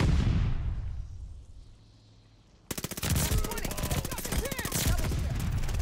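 Rapid automatic gunfire from an assault rifle in the video game Call of Duty Vanguard, loud sustained bursts of shots crackling close by after a quieter stretch of background ambience.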